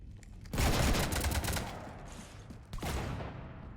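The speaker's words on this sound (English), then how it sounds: "You want to stop shooting up my ship?" Rapid gunfire strafes a ship in Mass Effect 3, two loud dense bursts of shots with a quieter rattling stretch between them and no talking.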